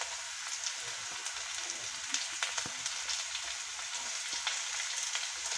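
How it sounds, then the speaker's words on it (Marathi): Tomatoes and carrots frying in a pan for kande pohe, a steady crackling sizzle with small pops, close and moderately loud, without any talking. "आता आपण ह्यात टोमॅटो आणि गाजर टाकून घेऊया।"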